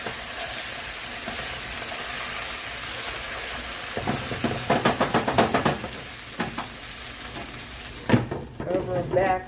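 Potatoes pan-frying give a steady sizzle, then a run of rhythmic scraping stirs, and a voice speaks near the end.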